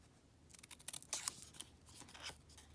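Scissors trimming paper to cut out a cross shape for rock painting, several quiet snips in a short irregular run, close and faint, with no talking.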